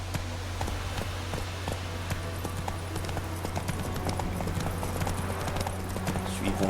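Galloping horse hooves in The Witcher 3 video game, a steady rapid clip-clop rhythm that runs throughout over a constant low game ambience hum.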